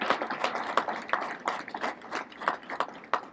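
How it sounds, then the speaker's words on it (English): Applause for President Barack Obama, the 44th President of the United States, a busy patter of many hands clapping steadily with sharper individual claps standing out, moderately loud and continuous throughout. "Give him a round of applause."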